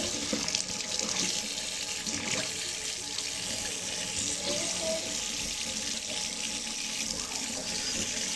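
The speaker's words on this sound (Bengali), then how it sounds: "হাত ধুই।" Hands being washed under a running tap, with a steady, fairly close stream of water splashing into a sink, continuous and alone.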